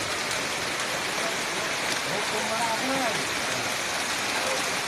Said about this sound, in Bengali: এত হারে ঝড় বৃষ্টির সঙ্গে ঝড়ো হাওয়া, ঝড় বৃষ্টির সঙ্গে ঝড়ো হাওয়া চলছে দেখুন